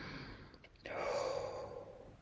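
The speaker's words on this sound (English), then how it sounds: "Deep breath." One person draws a slow, deep breath in and then lets it out in a long, audible, sighing exhale, close and soft, with no speech.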